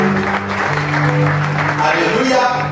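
A church congregation loudly applauds and cheers in praise of the Lord, continuous clapping and voices filling the room over sustained sung or instrumental tones.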